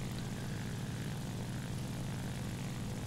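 Propeller warplane engine from an Era II Japanese arcade-mode combat video game, a steady loud droning roar that holds continuously with no voices.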